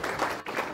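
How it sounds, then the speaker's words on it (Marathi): Audience applause at a song launch event, a dense wash of clapping from a crowd filling the whole short moment with a brief dip midway. "एकदा जोरदार टाळ्या भाडीपासाठी झाल्या पाहिजे."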